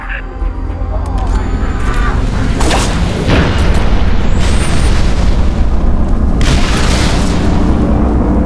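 Final protective fire artillery barrage in Halo Reach, a sustained roar of heavy booming explosions, loud and dense throughout, with several stronger blasts rolling over one another and voices partly under the din.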